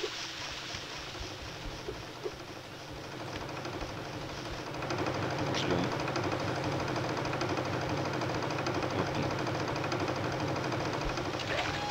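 A hair dryer runs steadily in the cartoon game Sheep Dog 'n' Wolf, a continuous whirring hum that swells louder midway and holds on, with a voice talking faintly over it.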